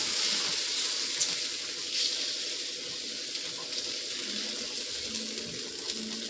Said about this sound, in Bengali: এবার এখানে দিয়ে দেবো 1 বাটি জল দিয়ে দেব।